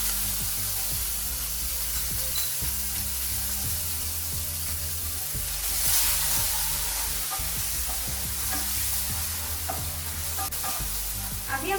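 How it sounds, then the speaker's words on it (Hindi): Spice paste with cumin seeds sizzles and fries steadily in a pan during preparation of masala baingan (eggplant masala), with repeated stirring scrapes and clinks throughout, close and continuous. "फिर उसमें डालेंगे क्यूमिन सीड, अभी हम उसमें डालेंगे मसाले का पेस्ट।"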